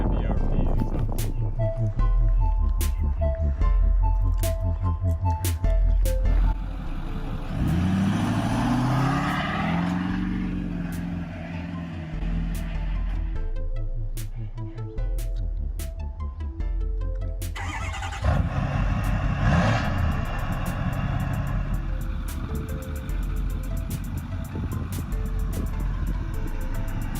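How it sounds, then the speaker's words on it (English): Lifted 2008 Ford F350 pickup with a twin-turbo 6.4 diesel and 6-inch MBRP exhaust, loud engine rumble with revving that rises in pitch and a turbo whoosh, heard under music and talking. "This is my 2008 F350."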